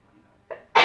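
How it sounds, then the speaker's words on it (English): A single sharp human sneeze at close range, preceded by a short breathy intake, ending the brief clip abruptly and loudly. "going to sneeze."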